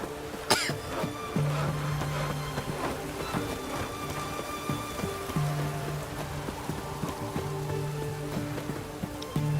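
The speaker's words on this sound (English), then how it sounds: "It's raining, of course it's going to be damp." Steady rain falls on surfaces in The Witcher 3 video game, a constant soft patter at a low level, with a single cough near the start.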